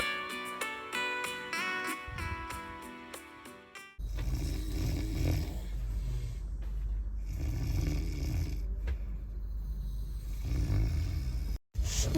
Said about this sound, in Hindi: इतने वैरायटी ऑफ अंकलों के बीच हूँ, सब अलग अलग वे से खर्राटे ले रहे हैं